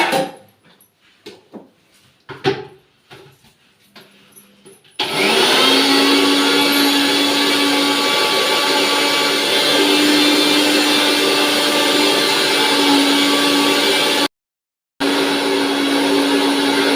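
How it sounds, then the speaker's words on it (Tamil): Mixer grinder blending neem leaves into a chutney: a loud, steady motor whine with a constant grinding roar that runs continuously after a few quieter preliminary knocks, then briefly cuts out and restarts. "வேப்பந்தழை எடுத்து மிக்சியில் சட்னி பண்ண போகிறோங்க"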